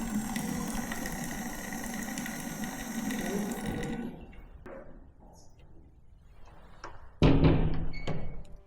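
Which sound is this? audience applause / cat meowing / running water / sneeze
running water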